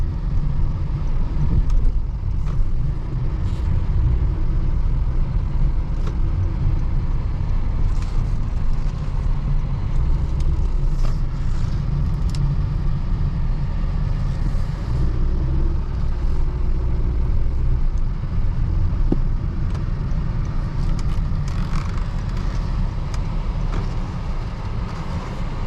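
Steady low road rumble and engine drone fill the cabin of a 2020 Honda Fit on the move, a constant loud interior hum with faint small rattles and ticks scattered throughout.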